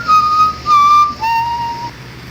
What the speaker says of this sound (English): if you wait a while and don't click anything, he should start whistling.